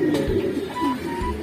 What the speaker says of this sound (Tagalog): Ayan mga kalapatids.